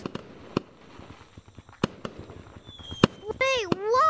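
Fireworks going off in the Gorilla Tag video game: scattered sharp pops and bangs through the first three seconds, then rising whistles and crackling bursts close together near the end, with excited voices in between.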